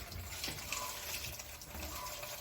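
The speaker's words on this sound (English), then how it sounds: "the dishwashing, the vegetable and fruit washed water comes through this pipe into this garden can" Kitchen waste water from dishwashing and washing vegetables and fruit flows through a pipe into a garden can, making a steady, continuous gushing rush at moderate level, with no talk.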